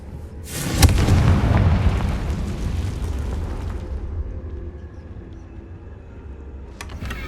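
Confringo fire spell explosion in Hogwarts Legacy: a loud booming blast erupts early, followed by a long roaring, crackling tail that fades over several seconds, with a small pop near the end.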